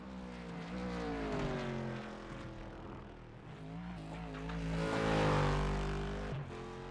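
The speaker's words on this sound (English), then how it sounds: "just the sound of the car and the track for you to enjoy." An onboard race car in a W12 sprint series round laps a circuit, its engine droning steadily with rising and falling pitch through shifts and corners, loud and close with no voices.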